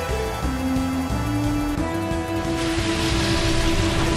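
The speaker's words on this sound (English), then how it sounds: "It's pouring rain in the Colosseum." Pouring rain in the Colosseum arena of Pokémon Battle Revolution, a steady hiss of falling rain beneath sustained game music throughout, with no talking.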